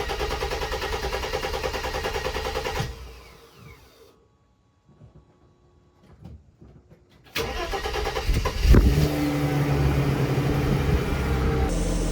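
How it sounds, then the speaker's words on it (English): A Mercedes W140 engine cranks and catches after a quiet pause, following a new filter and hose fitted to its gearbox, then settles into a steady, loud idle close by. "Let's start the car and check for leaks."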